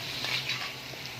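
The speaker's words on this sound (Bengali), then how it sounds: "পেঁয়াজ কুচিটা একটু গোল্ডেন ব্রাউন করে ভেজে নেবো" Chopped onions sizzle and fry in a pan while cooking chicken kosha, a steady close crackle with no voices.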